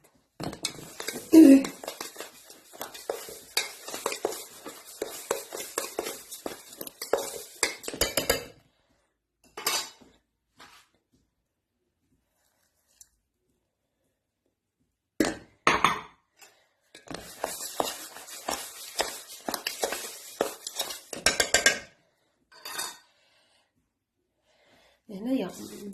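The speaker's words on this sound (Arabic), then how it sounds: "وهذه الزبده ديالنا اللي ذوبتها غادي نزيدها على البسكوي بهذه الطريقه وغادي نخلط." Crushed biscuits being mixed with melted butter in a bowl, bursts of spoon scraping and clinking against the dish separated by stretches of near silence, close up, with no talking.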